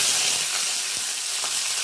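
Chopped shallots sizzle in hot oil with cumin, dried red chillies and curry leaves, a dense, even hiss, close up and unbroken.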